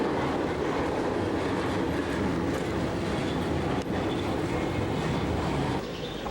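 A train rolls into a railway station in Szczecin, Poland, a steady loud rumble of wheels and carriages with faint clatter, continuous throughout.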